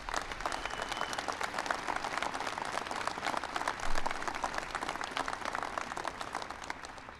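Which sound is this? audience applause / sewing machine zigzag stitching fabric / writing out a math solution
audience applause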